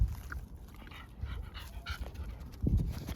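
Quiet, rapid panting from fluffy puppies close by, soft breathy huffs repeating under faint background noise.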